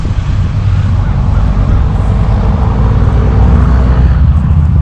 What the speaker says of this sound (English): These cars are just so loud.